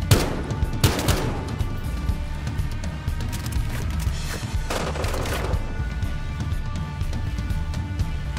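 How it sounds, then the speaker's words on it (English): Gunfire in the video game Battlefield Hardline crackles in dense bursts, with two sharper volleys standing out over a continuous loud rumble of battle noise. "I don't know who just shot at me"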